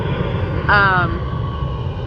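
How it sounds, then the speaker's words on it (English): An airplane flies past near LAX, heard from a beach: a steady, fairly loud engine roar fills the background throughout, with a brief vocal sound over it partway through. "There goes the airplane."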